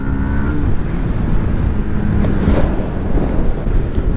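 A 2018 Yamaha MT 125 motorcycle engine held at full throttle on a test ride, a steady loud drone with rising harmonic whine and wind rush throughout, no talk.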